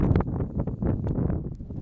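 Wind gusts over a tent on a mountain at 4,900 feet make a steady, close, low rumbling buffet against the microphone, with no talk.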